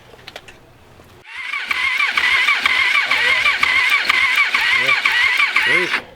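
A motorcycle engine taken from a parts bike for an offroad shifter buggy cranks and fires up after a quiet start, then settles into a loud, steady buzzing idle with small revving wobbles.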